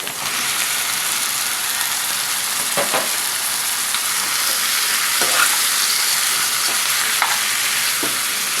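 Raw chicken pieces for a chicken gravy curry fry steadily in a hot pan, giving a continuous loud sizzle with a few soft stirring scrapes throughout.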